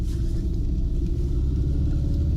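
GAZ 24-95 all-wheel drive Soviet Volga prototype driving along, a steady loud low engine and road rumble filling the cabin with constant vibration and no speech.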